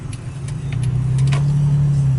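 A 2012 Toyota Tacoma TRD Baja Series pickup pulls over to the roadside. Its engine gives a steady low drone with a slight rise in pitch, heard close and alone, with faint clicks over it.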